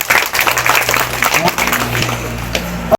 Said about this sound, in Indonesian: Tepuk tangan dulu dong untuk Tanggamus